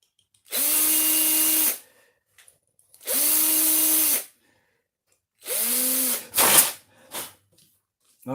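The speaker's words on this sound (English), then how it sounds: "that's the drilling done" A power drill bores through a part to fit an axle in three loud, even bursts of about a second each, separated by short pauses, with a few small clicks and knocks between them.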